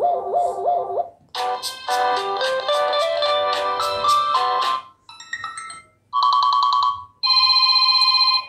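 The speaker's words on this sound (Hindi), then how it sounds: "यहाँ पर काफ़ी रिंग टोन का ऑप्शन मिल रहा है साउंड जो कि डिफरेंट डिफरेंट आपको देखने को मिलेगा मैं आपको प्ले करके दिखाती हूँ" An LG W41 Pro phone plays through several ringtone previews one after another: melodic electronic chimes and bell-like tones in short bursts separated by brief silences, loud and close with no talking.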